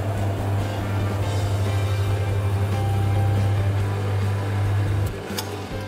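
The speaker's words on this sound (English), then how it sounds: "Now I can use my potting tool to mill out the steps on the axle." A metal lathe mills steps into a steel axle, giving a loud, steady low-pitched motor hum with faint cutting noise throughout, dropping off slightly near the end as the cut eases.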